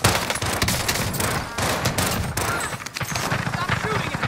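Bursts of rapid gunfire crackle through a Call of Duty: Modern Warfare match, loud overlapping volleys and machine-gun rattles with brief pauses, close and harsh.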